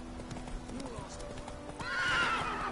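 Geralt's horse Roach trots in The Witcher 3, its hooves clip-clopping steadily and close by, with a loud whinny rising over them near the end.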